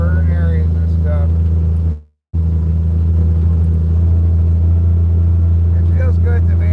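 A small car drives along a forest road past burn areas, a low steady engine and road rumble heard from inside, briefly cut to silence midway, with faint voice-like sounds over it.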